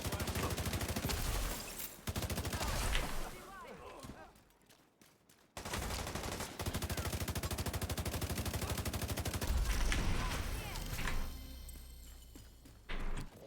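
Dense rapid gunfire in The Division 2 video game, long automatic bursts broken by a short lull, loud and continuous, with someone talking over the shooting.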